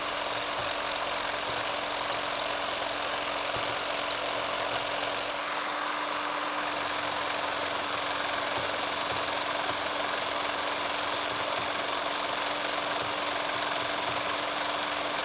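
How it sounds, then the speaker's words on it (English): A Biax power scraper rough-scraping the cast iron compound slide of a Monarch lathe, giving a steady, continuous mechanical buzz with a constant hum and no break. "So I'm going to use the Biax power scraper to get in here and do that rough scraping."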